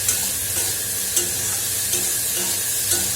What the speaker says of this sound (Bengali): একটু ভিন্ডি আলু ভাজা হোক